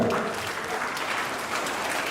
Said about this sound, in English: Clap them, clap them.